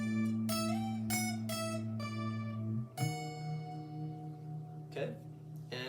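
An electric guitar plays a short tutorial riff: a handful of plucked notes ringing one after another, then a sustained chord that fades, close and clean with no talking.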